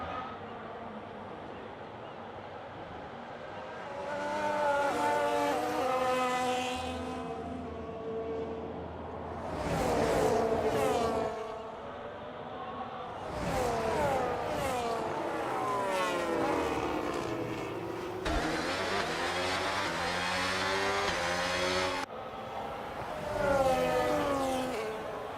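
F1 race cars from the F1 video game lapping at Monaco, engines rising and falling in repeated drawn-out passes with high whining tones, fairly loud and continuous, no talk.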